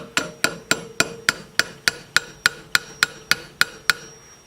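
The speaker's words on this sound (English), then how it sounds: "show you exactly what the hammer does. All you gotta do is just hit it a couple times" A hammer strikes an engine valve in a cylinder head about fourteen times in a steady, even rhythm, freeing it from its seat, each blow a sharp ringing clank, close and loud.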